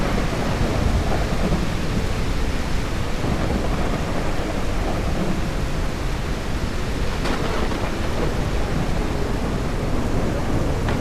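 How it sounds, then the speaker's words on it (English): Steady heavy rain hisses continuously while thunder rumbles through it, with one sharper crack partway through; no voices. Thunderstorm in the bus-driving video game The Bus. "What a storm, guys."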